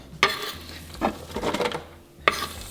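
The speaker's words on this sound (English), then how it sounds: "I'm gonna dump this onion in and let those onions start cooking up" Chopped onion tumbles into melted butter in a pot with a few clattering knocks and a soft sizzle, close and brief.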